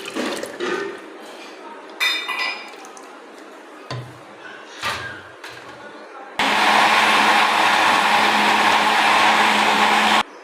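A blender whirs steadily as it mixes mango pieces with a custard liquid, a loud, even motor roar lasting several seconds after some clattering and handling sounds.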